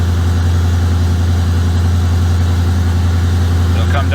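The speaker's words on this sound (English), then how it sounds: "That's the first start of the day. That's the cold start." A 1996 LT1 V8 fitted with TorqHead parts, idling high on its first cold start of the day, a loud, steady droning rumble that holds even throughout, with a faint voice near the end.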